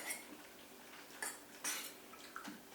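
A spoon scrapes and clinks against a pan while chocolate is stirred into hot spaghetti, giving a few short metallic knocks over a faint, quiet background.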